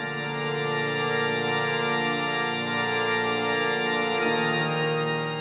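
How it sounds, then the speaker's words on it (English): A huge church organ preset from a Halion sampler sustains a dense, steady chord with rich layered tones, holding at even loudness throughout with no gaps. "We've got this huge church organ."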